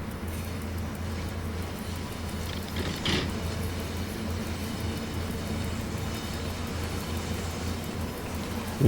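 A freight train runs steadily in the SimRail video game, a continuous low engine rumble and drone with rolling noise and a brief louder clunk partway through.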